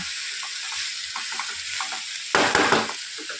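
A spoon stirs vegetarian cabbage curry frying in a pan, giving quiet scraping and soft sizzling that swells into a louder burst of frying near the end, with no one speaking.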